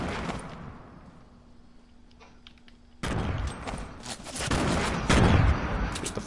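Heavy gunfire in a shooter game: a dense, loud barrage of rapid shots that swells and grows louder after a quieter opening stretch, with no talk.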